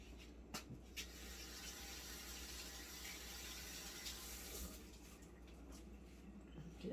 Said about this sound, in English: I'm going to rinse them off real good